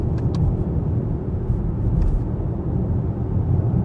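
Inside a new Citroen C5 Aircross while driving, a steady low road and engine rumble holds evenly throughout, with faint brief clicks near the start and no speech.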